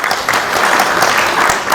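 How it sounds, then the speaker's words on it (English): An audience at a trade workshop gives its panelists a round of applause, a close, dense burst of clapping that holds steady for under two seconds with no voices on top. "a round of applause for my panelists"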